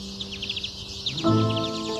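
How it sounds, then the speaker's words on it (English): Twite, a small brown finch of remote upland places similar to a linnet, giving a quick series of faint high chirping calls, followed by a louder sustained tonal sound. "You generally hear them first and you probably wouldn't recognise where the call was coming from."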